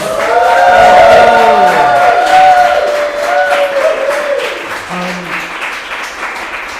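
A crowd breaks into loud applause and cheering for a performer, strongest at the start and gradually thinning over several seconds.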